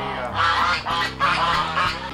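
Several geese honk loudly and close by in repeated bursts, with a faint voice underneath.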